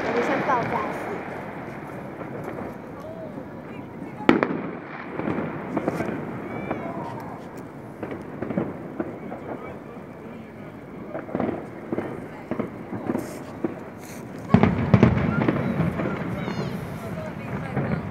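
New Year's Eve fireworks bursting in the distance, with irregular booms and crackles under a steady wash of crowd and wind noise, while people nearby talk throughout.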